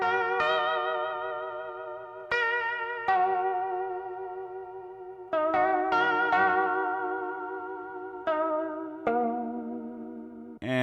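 A post-punk coldwave beat plays the second half of its verse: bright, chorused and echoing synth chords struck every second or two and left to ring and fade, with no voices.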